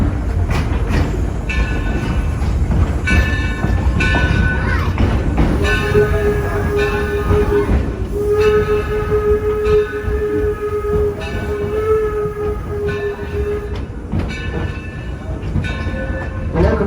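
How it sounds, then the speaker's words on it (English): Steam train ride behind the 1873 Torch Lake locomotive, built in Taunton, Massachusetts, pulling passenger cars: steady loud rumble and clatter of the rails throughout, with repeated sustained whistle blasts rising over the rolling noise. "The locomotive that's pulling us today is our Torch Lake."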